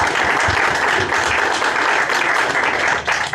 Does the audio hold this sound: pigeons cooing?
no